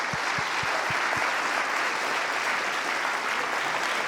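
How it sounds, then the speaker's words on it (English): An audience at a storytelling event applauds its storytellers, a full, steady wash of clapping that opens with a few distinct low thumps and then holds at an even level. "if we could give one more round of applause for all of our storytellers"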